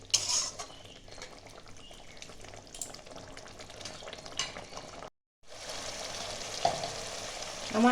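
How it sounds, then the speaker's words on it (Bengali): Bhola fish simmers in a pan of Bengali-style curry, a close, steady sizzle and bubbling with occasional clinks of a utensil against the pan, briefly cut to silence partway through. "এবার আমি মাছগুলো দিয়ে দিয়েছি, মাছগুলো এবার ফুটবে, একটু ভালো করে ফুটে যাবে 1-2 মিনিট।"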